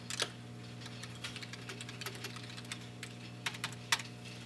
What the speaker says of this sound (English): and type something out.